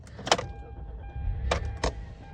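A 2007 Kia Amanti luxury sedan cranks and starts with a steady low engine drone, two or three sharp clicks or clunks breaking through, recorded close with no talking.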